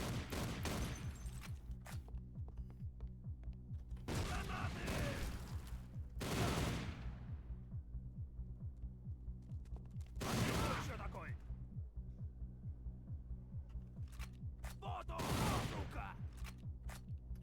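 Assault rifle fire in Soldier of Fortune: Payback, with several separate loud bursts of rapid shots spaced a few seconds apart over a low background hum, and a voice talking between them.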